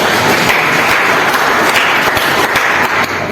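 Loud, dense applause from a seminar audience at a network-marketing motivational talk, a continuous burst of many hands clapping close by for about three seconds.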